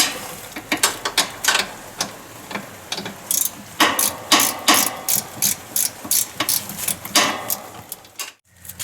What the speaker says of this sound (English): we can actually get to that real easy with a 14mm socket